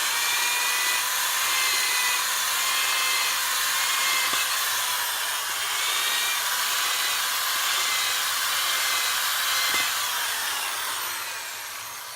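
A drill bores steadily into concrete with a continuous high, grinding whine, loud and close for the whole stretch before easing slightly at the end.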